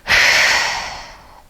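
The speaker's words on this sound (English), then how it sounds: "Inhale and exhale." One deep breath taken during a core-activation exercise: a quick, close inhale swells into a long, breathy exhale that fades gradually over about a second and a half, heard alone without talk.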